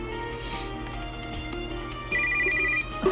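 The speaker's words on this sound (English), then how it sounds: "Before I can do anything, Rook's phone rings." A phone rings in the video game Major\Minor, an electronic ringtone that trills in a short repeated burst over a quiet game soundscape with background music, fairly close and clear.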